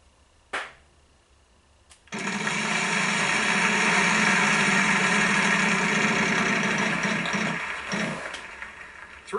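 A Wheel of Fortune wheel spinning in the PS3 video game, a steady dense whirring clatter starting abruptly after a short click and holding loud and even for about seven seconds before easing slightly.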